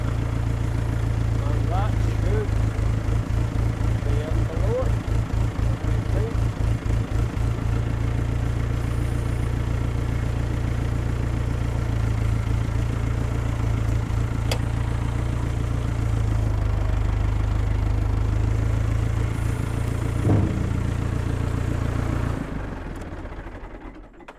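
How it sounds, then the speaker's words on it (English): A farm tractor engine runs steadily and loud close by, a low rumbling drone with a rhythmic throb early on, before it winds down and cuts off at the end. "So we'll just take this in now with the tractor"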